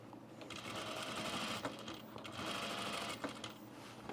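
Close and fairly quiet, a sewing machine stitches a 3/8 inch blazer seam in a steady whirring run, pausing briefly a couple of times before carrying on.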